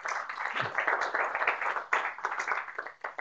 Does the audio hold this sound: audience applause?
yes